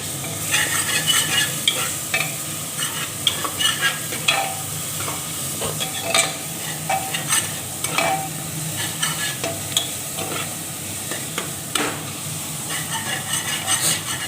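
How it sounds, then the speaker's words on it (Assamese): Ginger garlic paste sizzles and spatters in hot oil while it is stirred for mutton pulao, a steady close frying hiss with scraping stirs and crackling pops throughout, no talking. "আদা নহৰু পেষ্টখিনি দি অকণমান মাৰি দিম"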